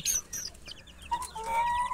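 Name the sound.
chickens clucking in a poultry farm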